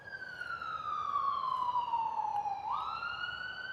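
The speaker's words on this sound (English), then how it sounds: "Sirens are getting close." Emergency vehicle siren wailing close by near fast-food drive-thrus, a single long descending tone that then jumps back up as it passes, loud and steady over low traffic rumble.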